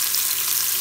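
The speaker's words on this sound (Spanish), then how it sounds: "le vamos a echar el ajito, todo el ajo" Garlic frying together with onion in a pan for pumpkin soup, a brief, even sizzling hiss up close with no voices.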